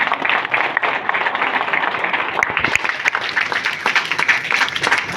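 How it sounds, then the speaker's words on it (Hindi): Steady, dense audience applause fills a motivational success-sharing seminar hall, a continuous wash of many hands clapping at once, loud and sustained throughout with no pauses. "जो तालियां तो होनी चाहिए ना"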